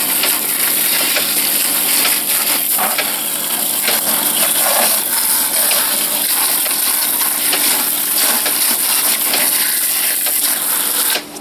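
Water sprays steadily from a garden hose to rinse out containers used for making compost tea, a loud, continuous hiss and splash that runs without a break and cuts off at the very end.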